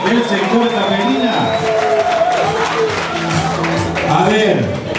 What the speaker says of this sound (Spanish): A ver el aplauso. Vamos, que se sienta.